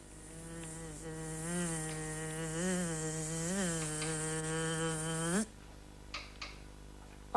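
A bee buzzes steadily and close for about five seconds, its pitch wavering up and down, then cuts off, leaving a few faint clicks.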